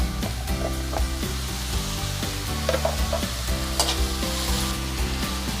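Ginger-garlic paste and onion frying in a pan over low heat, a steady dense sizzle with scraping stirring strokes on top, close and loud throughout, with no talking.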